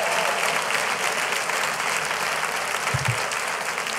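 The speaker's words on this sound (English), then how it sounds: "let's give the Lord a big hand clap of praise" A church congregation claps together in a steady, dense round of praise applause, fairly loud and continuous, with a brief low thump partway through.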